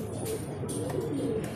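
Racing pigeons cooing as they return from a Santa Fe training release, soft low coos repeating close by under faint background bird chirps.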